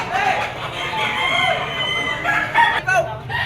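A yellow-legged talisay bull-stock gamecock crows at a poultry market in Padre Garcia, Batangas, its drawn-out call up close, with clucking and other fowl nearby and people talking underneath.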